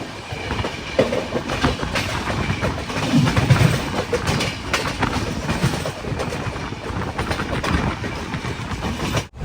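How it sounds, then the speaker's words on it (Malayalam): A Jan Shatabdi Express train between Howrah and Bhubaneswar rushes along at 130 km/h, a continuous loud rumble with rhythmic clattering of wheels over the rails, heard from on board. "ട്രെയിൻ ഇപ്പം 130 km/h സ്പീഡിലാണ് പോകുന്നത്"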